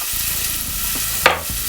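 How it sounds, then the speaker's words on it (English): Onions frying in oil over a medium flame for a Sri Lankan mutton curry, giving a steady close sizzle with soft stirring scrapes and one brief louder clatter near the end. "That lovely sizzle."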